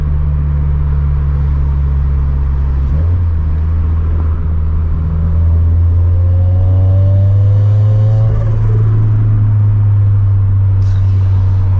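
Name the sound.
turbocharged car accelerating, turbo spooling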